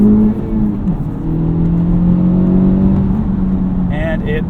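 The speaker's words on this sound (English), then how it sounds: "This 2-liter turbo from Honda is just a work of art." Honda Civic Type R 2-liter turbocharged engine accelerating hard, heard from the cabin of the 2023 model as a steady rising drone with whirring harmonics, close and loud throughout.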